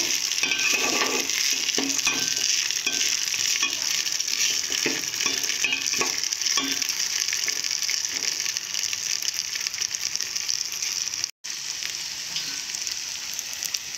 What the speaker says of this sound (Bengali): 5 মিনিটের জন্য ভেজে নেব